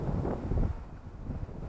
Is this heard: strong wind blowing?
yes